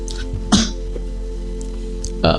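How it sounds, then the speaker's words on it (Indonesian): Two short, sharp coughs a couple of seconds apart, close and fairly loud, over a steady low hum. "Ya, saya sedang batuk."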